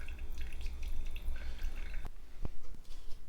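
Coffee drips steadily from a Kruve-sifted brew, a soft continuous trickle with a few distinct single drops falling near the end, close and fairly quiet, with no voices.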